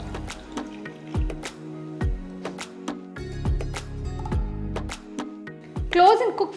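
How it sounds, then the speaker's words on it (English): About a cup of water is poured into chicken cooking in a white kadai, giving splashy liquid sounds among utensil knocks and clinks, with a voice speaking briefly near the end. "now pour about 1 cup of water."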